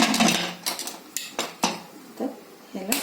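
A metal lid set onto a pressure cooker holding simmering liver masala, heard as several sharp close clanks and knocks spaced irregularly, a few metallic taps ringing briefly.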